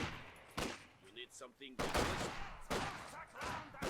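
Gunfire bursts from a Company of Heroes 2 skirmish with Grenadiers, conscripts and an MG42, several dense broadband volleys in quick succession, fairly loud over a steady battle din, with a commentator talking throughout.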